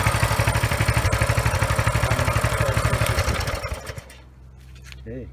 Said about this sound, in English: So that was a first pull, like barely even a pull, and that fired up